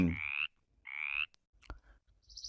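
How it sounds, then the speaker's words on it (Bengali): A frog croaks twice in quick succession, each call a short raspy burst, followed by a few faint clicks, close and with no voices. "ব্যাং"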